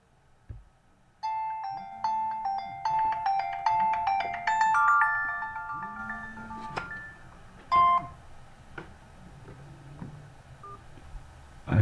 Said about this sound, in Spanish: Acá justo me llaman por teléfono